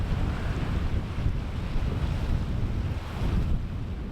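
Ocean waves crash on a rocky Massachusetts shore in a continuous roaring surf, loud and close with heavy wind buffeting the microphone.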